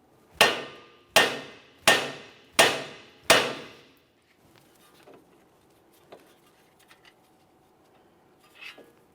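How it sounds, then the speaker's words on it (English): Five sharp metallic hammer blows on a car's steering knuckle in a steady rhythm, each ringing briefly, followed by quiet shuffling and a few faint clinks. "I'm just going to carefully use my hammer, cause some vibration."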